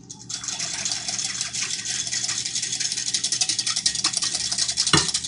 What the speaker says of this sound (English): Just whisk that together, I know that's going to be loud.